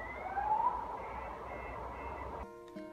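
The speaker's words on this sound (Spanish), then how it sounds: "Esperemos a que la alarma deje de sonar" An alarm rings outside near a construction site, heard indoors as a steady wavering electronic tone that cuts off abruptly near the end, followed by a few brief tonal notes.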